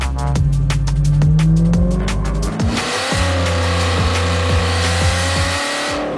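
A Ford GT slides with its tyres squealing loudly, a sustained screech rising and wavering over the strained roar of the engine, heard close and with no talk.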